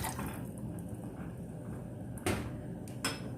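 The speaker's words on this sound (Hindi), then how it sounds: "ये 1 गिलास पानी डाल रही हूँ" Water poured from a glass into a pot for mint tea in a home kitchen, a steady soft splashing and trickle with a couple of clinks toward the end.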